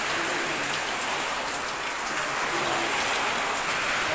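Heavy typhoon rain pours down in a steady, dense hiss at a flooded house during Typhoon Ulysses. It is loud and constant throughout, with no talk.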